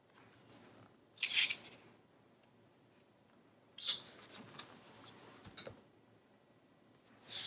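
Scissors trimming paper for a scrapbook album cover: a few separate snipping bursts with quiet pauses between them, close and fairly soft, with no talking.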